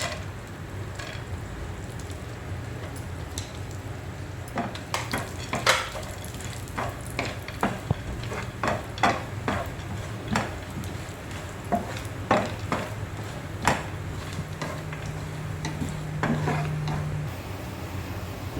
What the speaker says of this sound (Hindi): फिर थोड़ा घी डालते हैं। और ये बादाम भून लेते हैं।